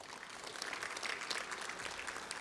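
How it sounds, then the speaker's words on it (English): Faint applause from a crowd at a budget symposium in Zambia, a dense patter of clapping hands that stays even throughout the brief moment. "Let's clap for them, please."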